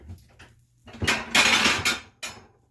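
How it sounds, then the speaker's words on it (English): Dishes and plates clatter close by as a serving dish is taken out for sweet potato and banana pancakes, with a few short knocks, then a longer ringing clatter and a final clink, with no talking. "Let me get a dish to put them on."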